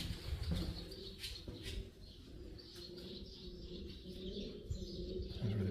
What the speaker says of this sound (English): That's where the pigeons are. I can hear them.